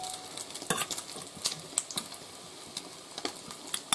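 Bread with egg frying in a pan on a solo winter hike over crusted snow, a soft steady sizzle broken by scattered clinks and scrapes of a utensil against the pan, close and quiet, with no talking.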